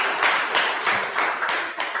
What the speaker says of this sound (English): please everyone give a round of applause to our speaker today, Mr. Joshua Irvine